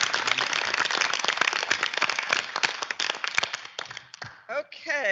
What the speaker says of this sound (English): Let's give a round of applause for all our August degrees.